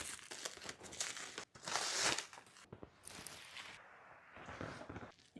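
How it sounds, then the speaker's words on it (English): A wrapped bundle of grass is unwrapped, giving close, quiet crinkling and crumpling with brief tearing rustles in irregular bursts, heard alone. "first, I guess let's unwrap this thing"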